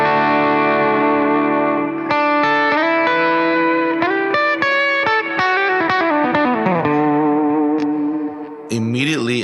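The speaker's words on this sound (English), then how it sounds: "So let's start off with the bass sound, what I get." Bass tone from a Quad Cortex preset built on captures, played as a sequence of sustained and plucked notes with effects-unit coloring and slight chorus, loud and alone, ending with a brief pitch-swept squeal.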